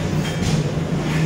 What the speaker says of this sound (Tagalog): Ay nako, sobrang ingay na kasi ng makina nito.